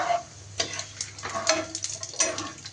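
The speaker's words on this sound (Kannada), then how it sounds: "ಆಮೇಲೆ ಸಾಸಿವೆ ಮತ್ತು ಜೀರಿಗೆ ಹಾಕೋಬೇಕು. ಆಮೇಲೆ ಚೆನ್ನಾಗಿ ಫ್ರೈ ಮಾಡ್ಕೊಬೇಕು." Mustard seeds and cumin frying in a pan for homemade mango rice, with irregular crackling pops and short ticks rising over a soft sizzle, close and moderately loud.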